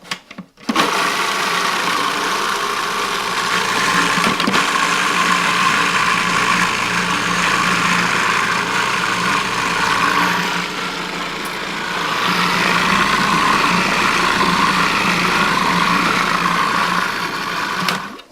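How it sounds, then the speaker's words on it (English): A blender grinds tahini dip ingredients in a loud, steady whir that runs almost the whole time, with only a brief dip in pitch and strength partway through. "And then we're just going to grind it up."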